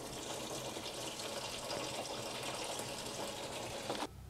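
Coolant gushes steadily out of a BMW E9x cooling system as it drains, a continuous faint splashing pour that cuts off abruptly near the end, with no voices.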